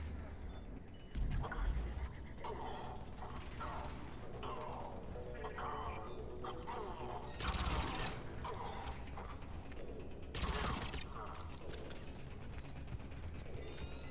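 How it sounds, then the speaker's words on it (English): Sniper rifle shots in Mass Effect 3, three sharp broadband cracks spaced a few seconds apart over a steady mechanical game-action bed, with no talking. "Oh, that's a sniper. Two snipers."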